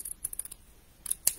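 Scissors trim the edges of a paper section for a stamped 3D air freshener, giving a few quick, close, crisp snips spread across a short, otherwise quiet moment.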